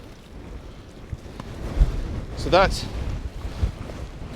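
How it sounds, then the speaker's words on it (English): Gusty wind in Shetland buffets the microphone with a low rumbling roar, and a person speaks briefly partway through. "I'll give you an idea of how windy it is just now."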